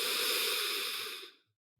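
One long, deep inhale during a guided meditation, a close, airy breath that holds steady and then fades into silence.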